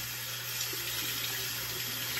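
Water runs steadily from a tap as a skincare item is wetted under it, a continuous close hiss with no talking.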